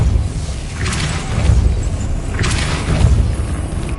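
Two whooshing magical pushes from the Depulso spell in Hogwarts Legacy, each a soft rushing swell with a dull thump, over a low ambient rumble.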